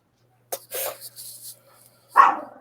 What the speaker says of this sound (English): I need to shut this dog up.